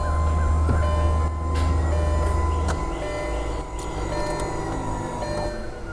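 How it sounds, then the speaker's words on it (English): A hydraulic pump on a Lamborghini Gallardo E-Gear transmission hums steadily as it primes, a continuous low drone with a faint mechanical whine that drops off about halfway through while the hum carries on. "let's see if that E-Gear pump primes"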